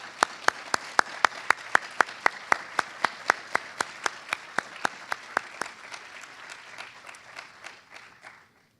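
An audience applauds inductees at a Phi Beta Kappa induction ceremony. The claps are crisp, steady and evenly paced at first, then thin out and fade to silence.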